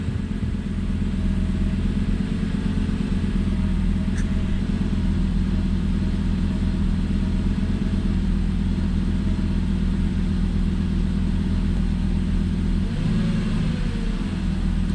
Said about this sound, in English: roughly 300 to 400 RPM spike there for a couple seconds, and then she levels back down